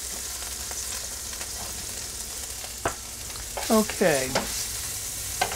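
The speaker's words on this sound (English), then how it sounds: "put my shrimp in there. These will cook quickly." Shrimp frying in a hot pan make a steady, close sizzle with a few sharp utensil clicks and scrapes near the end, and a person speaks briefly.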